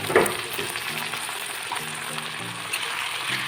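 Marinated mutton hits a hot pan of fried onions with a sharp initial sizzle, then settles into steady close frying crackle with intermittent stirring scrapes.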